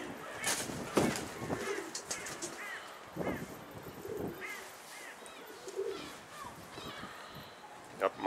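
Soft bird calls and cooing come and go at a distance amid quiet outdoor rustling and faint human sounds.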